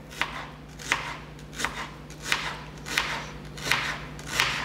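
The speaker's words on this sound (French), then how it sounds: "on coupe l'oignon en lamelles" A knife slices an onion into strips on a board, six evenly spaced crisp chops cutting through the quiet, close and clear, with no talking.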